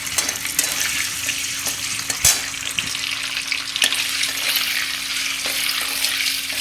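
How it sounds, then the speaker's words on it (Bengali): Paneer pieces frying in hot oil with a sprinkle of sugar, a steady loud sizzle running throughout with a few sharp spatula clicks and pops, no voices. "এবার আমি পনিরটা তেলের মধ্যে হালকা করে ভেজে তুলে নিচ্ছি।"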